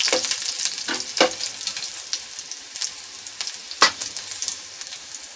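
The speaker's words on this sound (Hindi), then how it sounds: "उसके बाद हम उसमें लहसुन जो हमने चॉप किया था वो भी डाल देंगे। लहसुन को हमें लाइट ब्राउन करना है।" Chopped garlic frying in oil until light brown, a soft, close sizzle broken by a few sharper pops and crackles, with no voices.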